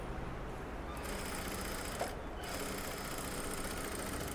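A sewing machine stitches fabric for a frilled child's design blouse with a steady, continuous whir and a brief pause partway through, close by with no talking.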